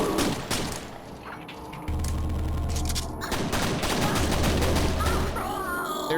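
Rapid gunfire and explosive bursts fill a Quake level as enemies shoot at the player, with dense repeated shots, deep booms and a low rumble under a brief passing voice.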